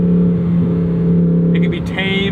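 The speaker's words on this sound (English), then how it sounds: "Listen to that engine" A 2024 Lamborghini Huracan Sterrato engine idles with a steady low hum, then gives a brief rev near the end, heard from close by with some talking over it.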